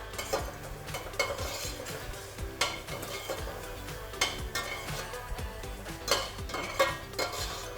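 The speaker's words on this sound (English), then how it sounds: "while I add our mushrooms. And we're going to move them around the pan to soften up." Mushrooms sautéing in a pan for pasta carbonara, a soft sizzle under repeated scraping and clinking of a utensil stirring them around, close and irregular.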